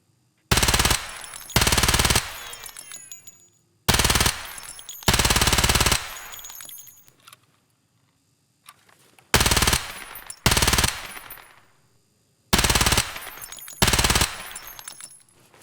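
A 12.9-update weapon fires in the shooter game Escape from Tarkov, loud full-auto bursts in four separate groups of two or three short strings each, with brief ringing tails and gaps between them.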